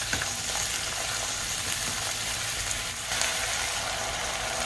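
Chicken pieces with onions frying over a high flame make a loud, dense, steady sizzle, close up and unbroken for several seconds, with no one talking.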